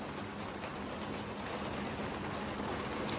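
Rain begins falling outside an auto-rickshaw with its doors shut, a soft, steady, even hiss that holds unchanged throughout, with no voices.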